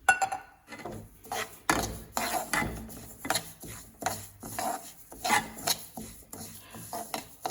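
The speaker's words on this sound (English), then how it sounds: "we have to dry roast this sesame seed and this urud dal together" Sesame seeds and urad dal dry roasting in a pan, with a close, dry rasping scrape of stirring strokes in an uneven rhythm, no talking.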